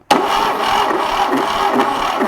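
A 1968 Fiat 500 engine, being revived, cranks and catches, then holds a steady, loud idle with a rhythmic pulsing throb close up, with no talk over it.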